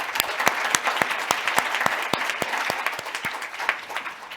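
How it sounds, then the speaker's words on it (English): An audience at a plenary debate on unlocking capital for sustainability applauds a team. Brisk, steady clapping comes at moderate loudness, with individual sharp claps standing out over a dense wash of hands throughout. "invite all of you in the House to give a rousing round of applause"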